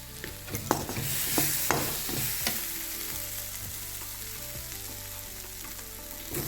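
Cumin seeds sizzle in hot oil in a frying pan, with a spoon stirring and scraping through them before pumpkin leaves go in for a masoor dal dish. The frying hiss is steady and close, broken by a few sharp scrapes.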